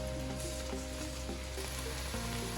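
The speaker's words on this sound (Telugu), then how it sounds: "చికెన్ ని బాగా ఫ్రై చేసుకోండి." Chicken fries in a pan with a dense, continuous sizzle, steady and close throughout, with a low hum underneath and no talking.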